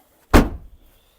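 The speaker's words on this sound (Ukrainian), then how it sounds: "відкривається ключом. Хоп, почули, що відкрилось, відкрили" A 2010 Ford Focus 1.6 diesel's boot lock gives a single sharp close clunk as it is released with the key, followed by a short fading rattle as the lid begins to open; no voices.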